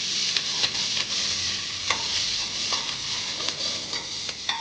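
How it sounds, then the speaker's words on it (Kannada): Onions with curry leaves are sautéed in a pan, giving a continuous bright sizzle with frequent ladle scrapes and taps, up close with no talking. "ನಂತರ ಈರುಳ್ಳಿ, ಇದನ್ನು ಹಾಕಿ ಸ್ವಲ್ಪ ಬಾಡಿಸ್ಕೊಳ್ಬೇಕು"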